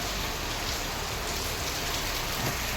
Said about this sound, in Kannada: ತುಂಬ ಮಳೆ ಬರ್ತಿದೆ ಇವಾಗ